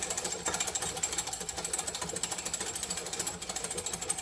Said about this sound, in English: Why do you have to whisk this?